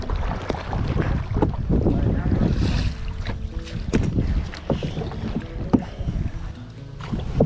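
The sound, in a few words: canoe paddling on water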